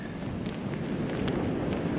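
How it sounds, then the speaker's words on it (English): Strong wind on a Scottish ridge buffets the microphone in a continuous low rumble with gusty swells, no voices. "Really windy."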